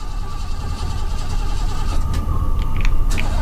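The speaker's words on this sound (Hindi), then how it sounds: "मेरी गाड़ी क्यों नहीं स्टार्ट हो रही?" Car engine in a horror video game cranking and failing to start, a rough low rumbling churn that holds steady, with faint high clicks and squeaks near the end.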